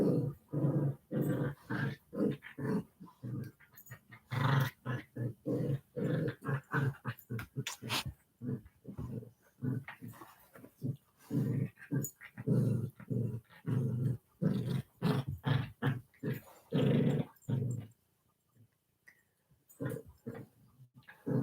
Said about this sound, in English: That's my two little dogs